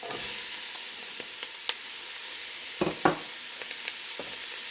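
Peppers and onions sizzling in a pan with sausage, a continuous bright hiss with a few sharp stirring clicks and scrapes, close and with no talking.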